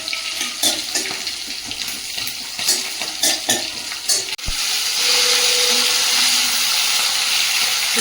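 Chopped onion hits a wok already holding dried chillies. After a sharp clatter the sizzle jumps to a loud, steady hiss that carries on. Before it comes a stretch of quieter clinks and scrapes.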